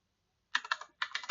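Keys on a computer keyboard are typed in two quick close bursts of clicks as a command goes into a Linux terminal, crisp and near, with no talking.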